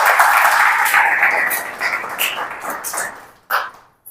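Church congregation clapping hands in thanks to the Lord, a dense sustained burst of many hands that gradually thins, with a final short flurry near the end.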